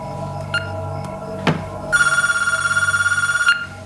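A telephone rings indoors with a loud electronic trill lasting about a second and a half, preceded by a short beep and a thump, and no one speaks over it.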